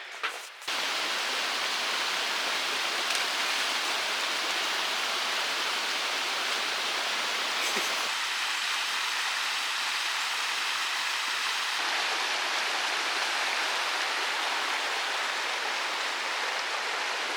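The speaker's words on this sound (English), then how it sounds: "So we're back at the main stream. We're above the waterfall now." A mountain stream in the Great Smoky Mountains rushes steadily above a waterfall, a broad, even wash of flowing water that carries on close and loud throughout, with a brief knock at the start and no voices.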